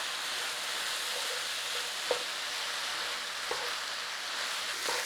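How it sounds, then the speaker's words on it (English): Ground meat sizzling in a pan with cayenne and smoked paprika, a steady broad frying hiss punctuated by a few soft knocks of a spoon stirring. "Start cooking your spices in with your meat."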